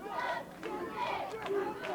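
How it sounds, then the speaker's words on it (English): A crowd at a high school boys soccer game cheering after a volleyed goal, a brief burst of mixed voices and shouts that rises and falls with a reverberant, fairly near sound. "And that brings the crowd to life."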